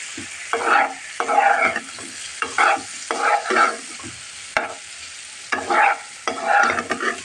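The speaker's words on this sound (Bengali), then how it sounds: "এখন আমি এই ভাজা আলুটা ঢেলে দিলাম।" Fried potatoes tipped into cooked masala in a pan, stirred in repeated scraping strokes with a steady sizzle and frying crackle, close and fairly loud, with no talking.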